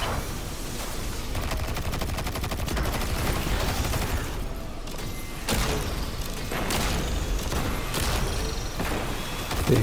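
Sustained gunfire from Destiny 2 combat against shielded barriers, a dense continuous fusillade of rapid shots with booming bursts throughout, loud and close, with no talking over it.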